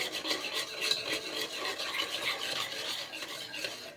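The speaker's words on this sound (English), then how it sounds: "I'm just going to keep stirring in between and make sure nothing scorches, nothing sticks." A spoon scrapes and rubs around a pot of mixture waiting to boil, a steady, close rasping stir that repeats in quick strokes with no talking.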